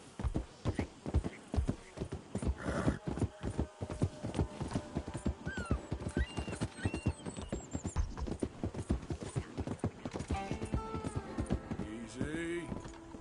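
Horse hooves clip-clop at a steady gallop in Red Dead Redemption 2, loud and rhythmic throughout, with a brief whinny and a voice spoken over the hoofbeats.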